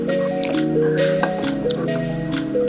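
A thick filling of cooked chana dal and jaggery being stirred, giving soft wet squishing and sticky slaps in a quick irregular rhythm, close up, with a faint voice in the background.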